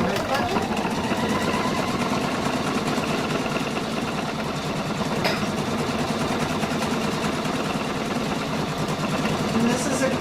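A Pfaff Quilt Expression 720 sewing machine runs steadily while piecing quilt fabric right sides together, a continuous rapid mechanical whir with fine rhythmic ticking, heard under a person talking.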